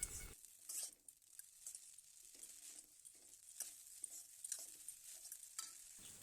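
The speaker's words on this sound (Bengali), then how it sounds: "চাউমিনটা নাড়িয়ে লবণটা ভালো করে মিশিয়ে নেব।" Egg chow mein sizzles steadily in a frying pan while it is stirred, with repeated close scraping and tossing strokes over the constant hiss of hot oil.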